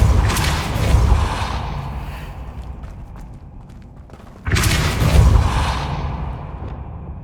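Hogwarts Legacy's Depulso pushing spell is cast twice: each time a breathy whoosh swells into a heavy thump, with a quieter gap between the two bursts.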